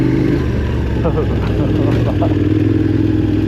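A KTM 1290 Adventure R motorcycle engine drones steadily on a rough Australian bush trail, a close, continuous low rumble with some clatter from the bike.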